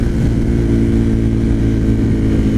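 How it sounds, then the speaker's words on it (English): A Suzuki TL1000R motorcycle with a 1000cc V-twin engine and 150,000 miles, running with a loud, close, steady throbbing rumble and no talk. "It's that V-twin engine, man. 1000cc V-twin."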